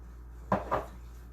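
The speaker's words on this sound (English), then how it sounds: "I'm going to use my little spatula here to mix them up" A small spatula scraping and knocking twice against a bowl while stirring oats, cinnamon spice and oil, two brief close clinks over a low steady hum.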